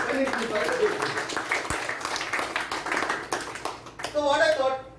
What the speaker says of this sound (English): a round of applause to her for explaining to such a good way